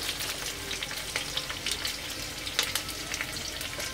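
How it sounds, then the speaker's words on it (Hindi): Onion frying in hot oil in a pan for vegetable chow mein, a steady dense sizzle with occasional sharper crackles and pops, close and continuous with no talking. "अब हम इसमें प्याज डालेंगे।"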